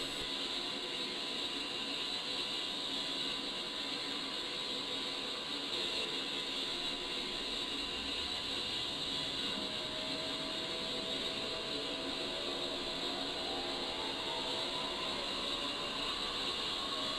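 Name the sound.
A-10C aircraft jet engine spooling up, from a flight simulator video game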